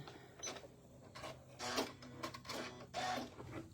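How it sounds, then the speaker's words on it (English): A Janome MC 9450 sewing machine ties a knot while sewing on a button, giving quiet, brief mechanical whirs and clicks in short bursts close by. "then I can get my gas pedal and tie it on right there. And it ties a knot."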